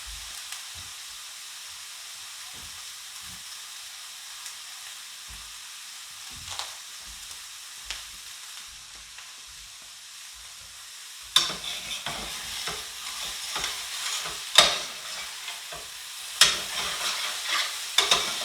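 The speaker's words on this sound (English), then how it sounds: "We'll let that saute for a minute" Food sautéing in a pan for a Mish Mash, a steady low sizzle with occasional stirring scrapes that turns louder and brighter partway through as the pan heats up, with no talking.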